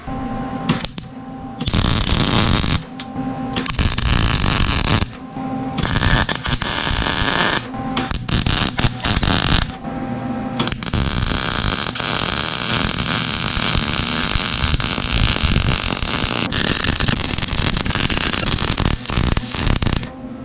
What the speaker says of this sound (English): Got a new pin for it as well, so let's get all that welded up